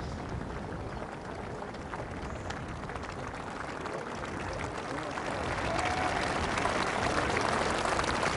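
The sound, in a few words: golf crowd applauding Phil Mickelson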